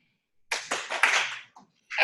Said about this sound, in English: Can you give me 2 claps?